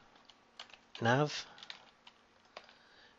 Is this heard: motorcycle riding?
no